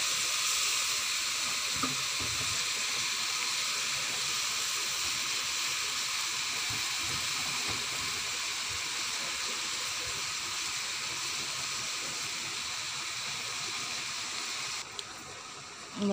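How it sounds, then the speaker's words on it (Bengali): Chopped radish greens cooking in a hot wok, a steady soft hiss of steam and sizzle running evenly throughout with faint scraping, no voices, ending with a brief drop. "মূলা শাকটা কড়াইতে দিয়ে দিয়েছি, ভালো করে নেড়েচেড়ে নিতে হবে।"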